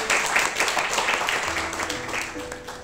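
A church congregation claps during a Pentecost service, a moderate wash of applause with a voice and sustained tones running underneath, fading slightly toward the end.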